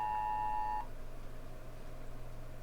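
A phone emits a steady electronic beep tone that cuts off abruptly after under a second, leaving a low background hum in a room.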